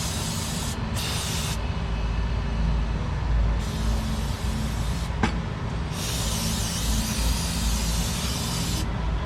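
Brake cleaner sprayed from an aerosol can onto a Yukon's oil-leak area in several loud, close hissing bursts of varying length, separated by short pauses.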